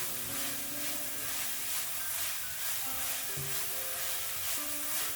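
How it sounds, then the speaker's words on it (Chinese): Diced shiitake mushrooms are stir-fried quickly in a hot wok, giving a steady close sizzle and hiss with light scraping of the spatula, no voices. "快速的翻炒均匀"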